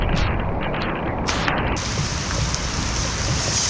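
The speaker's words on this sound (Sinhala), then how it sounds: "අර දඩ වැස්ස බං" Heavy rain pours steadily during a storm, a dense continuous broadband hiss that rises and thickens partway through, with no voices.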